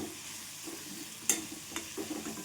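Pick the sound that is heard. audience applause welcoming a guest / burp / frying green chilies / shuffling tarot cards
frying green chilies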